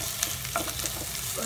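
Ginger sizzles as it is stir-fried in a pan, a continuous close crackle with small scraping stirs and spatters and no talk.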